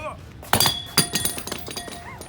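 An old coilover shock absorber from a 1962 Mercury Meteor is drop-kicked, giving a sharp metallic clank and thud near the mic with a second knock moments later, amid background voices and shop noise.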